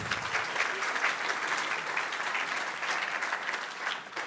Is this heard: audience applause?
yes